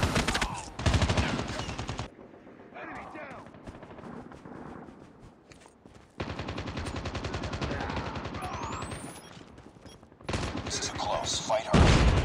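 Rapid automatic gunfire in Call of Duty Mobile rattles in loud sustained bursts, broken by short quieter gaps with game sounds and some talking.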